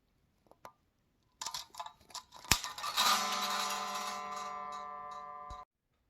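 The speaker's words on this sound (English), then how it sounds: "clip the string around the 12th fret" A guitar string is snipped near the 12th fret of a Les Paul, giving a few small clicks and handling taps, then a sharp snap followed by a bright metallic ring that hangs for a couple of seconds before cutting off.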